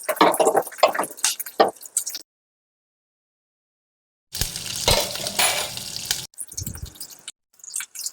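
Ghee is spooned into a pot on a kitchen burner while chicken biryani is being made. Near clinks of utensils and wet, squishy splashes come in short bursts, separated by a long stretch of silence.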